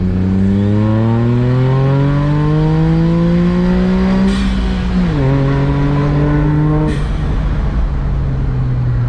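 A Honda S660 mini roadster accelerates in second gear from a 30 km/h roll-on, its small engine note rising steadily and loud, then dipping briefly at a shift before climbing again, close up with no talk.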